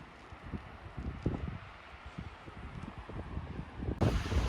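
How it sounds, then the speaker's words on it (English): Strong coastal wind at the Nordhouse Dunes shore in winter, buffeting the microphone in steady rumbling gusts that swell and ease throughout, with a louder, harsher blast near the end. "but the wind's pretty strong right along the coast here"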